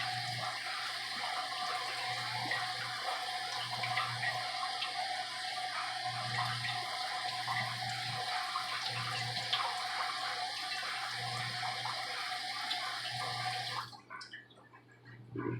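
Water from a tap runs steadily while smoked rainbow trout fillets are rinsed, a faint, even stream with soft splashing that stops abruptly near the end.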